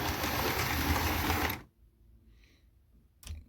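The motor of a model railway three-way point runs with a loud, close mechanical buzz for about a second and a half, then cuts off into quiet with faint clicks. A short thump follows near the end.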